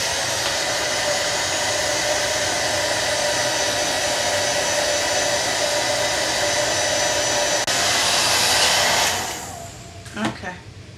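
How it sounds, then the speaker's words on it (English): A hair dryer blows steadily and loudly up close, a constant broadband whoosh that runs for several seconds before switching off, leaving a few faint handling knocks. "So what I'm going to do is bring out the hair dryer."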